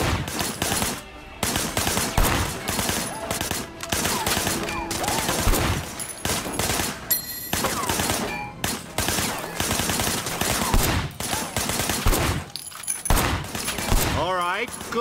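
Repeated bursts of gunfire in the Sleeping Dogs video game as rounds are fired into objects from behind a barricade, loud dense volleys with short gaps, mixed with game effects and some voice.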